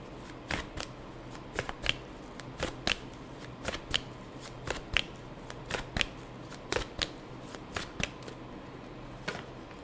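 Tarot cards are shuffled by hand in a quiet room, a series of crisp riffling snaps and flicks repeating at an uneven rhythm, close and clear with no talking.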